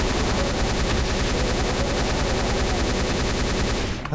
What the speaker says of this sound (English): I think this chain gun does a bit lower spread than the normal one.